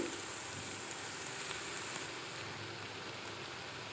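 Green chillies sizzling in hot oil in a pan for a flat bean and tomato masala curry, a soft continuous fizzing crackle without talk.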